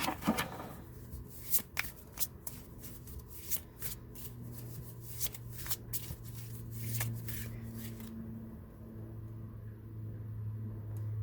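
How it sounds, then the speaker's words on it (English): Tarot cards are shuffled in a series of crisp riffling bursts, some quick and clustered, over a low steady hum; no one speaks. "you can, if you haven't already, begin to shuffle your cards"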